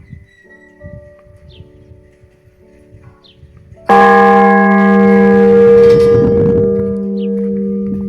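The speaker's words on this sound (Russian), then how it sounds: "Я все-таки ударил этот буддийский колокол." After quiet background noise, a large Buddhist temple bell is struck once with a loud clang, its deep resonant tone ringing and slowly sustaining.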